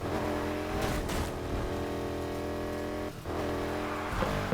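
Steady, loud, close engine drone of a car in a racing video game, holding a sustained rev with brief dips around gear shifts, with no talk.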